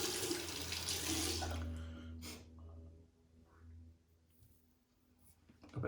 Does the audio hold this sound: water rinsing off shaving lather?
yes